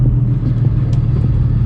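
A 750hp BMW 135i engine rumbling loud and close with a deep, steady low drone and no voices.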